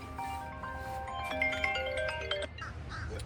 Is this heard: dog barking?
no